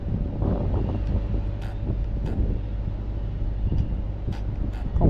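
Steady wind buffets the microphone outdoors near a bridge during a drone flight, a constant low rumbling roar with faint higher whines drifting through.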